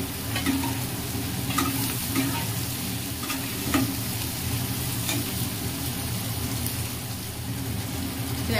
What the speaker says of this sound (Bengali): এখন আমি এর মধ্যে দিয়ে দিব আমার কুচনো আলু